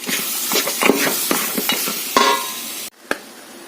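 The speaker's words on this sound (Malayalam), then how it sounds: "നന്നായിട്ട് ഇളക്കാം." Beef roasting in a pan while being stirred, a run of quick scraping spoon strokes over a bright sizzle, close and loud, cutting off abruptly near the end with one last knock.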